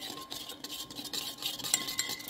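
Curd beaten and stirred in a bowl with a spoon for a simple home-style buttermilk dish, a quick irregular scraping and tapping rhythm close by with no voices.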